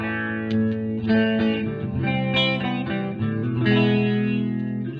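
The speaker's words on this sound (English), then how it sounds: "That's what it sounds like with a little bit of chorus on it." Electric guitar chords with a shimmering chorus effect, strummed and sustained, played alone at a steady moderate volume.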